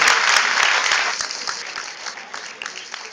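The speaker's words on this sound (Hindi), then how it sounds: "जोरदार से ताली हो रही है" Loud audience applause fills the space at first, dense clapping that gradually thins and fades toward the end with scattered individual claps.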